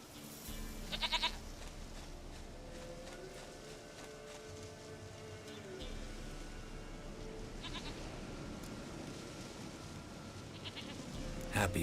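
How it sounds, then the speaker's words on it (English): Goat bleats from The Witcher 3: Wild Hunt come through a few times over steady game ambience and music, mid-distance and moderately loud. "Goat of mine, dearest, sweetest goat."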